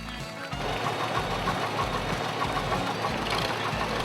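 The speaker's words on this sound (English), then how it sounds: "This 4-cylinder gasoline engine sounds strong and is doing a nice job." An Allis Chalmers WC tractor's 4-cylinder gasoline engine pulls a sled at a county fair antique tractor pull, running loud, strong and steady with a throbbing low-end chug the whole way through.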